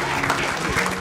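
Applause from wedding guests at a reception, a short, dense burst of crowd clapping heard fairly close, with a murmur of voices mixed in.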